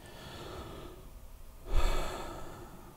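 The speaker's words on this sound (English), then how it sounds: "So take another breath." A single deep inhale and exhale during an EFT tapping round, a soft breathy rush that swells briefly near the middle and then fades, close and alone with no talking.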